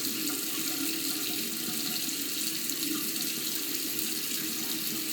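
Tap water runs steadily into a sink during a face rinse, a constant close hiss and splash with no talk.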